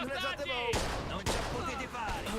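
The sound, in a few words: gunfire in video game Mafia II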